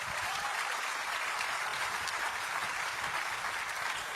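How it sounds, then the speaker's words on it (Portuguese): A church congregation claps together in sustained, dense applause that fills the space evenly from start to finish, with no clear voices standing out above it. "Você consegue aplaudir ao Senhor pela sua palavra agora?"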